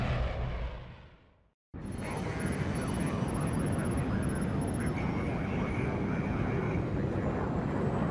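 Steady roar of an airplane cabin and engines in Splinter Cell: Blacklist, loud and continuous after a brief cut to silence, with a faint high tonal whine above it and no talking.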